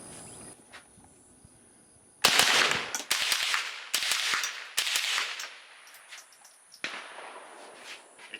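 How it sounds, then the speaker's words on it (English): A Wilson CMBT G34 pistol fires at steel plates outdoors: a quick string of about five loud, sharp shots in rapid rhythm, then one more shot after a pause, close and ringing against quiet surroundings. "Good gun to shoot steel plate competition with."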